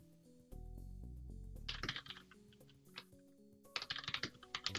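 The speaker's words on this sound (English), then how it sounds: "This is my cute new keyboard" Typing on a new computer keyboard: quiet, irregular clicking keystrokes that come in bursts and grow busier toward the end, with a low hum underneath.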